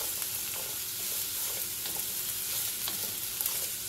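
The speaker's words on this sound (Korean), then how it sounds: "야채를 볶으실 때는 이렇게 좀 센 불로 볶으셔야 돼요." Zucchini, onion and cabbage stir-frying over high heat in a pan, a loud steady sizzle and crackle with occasional stirring scrapes, no voices.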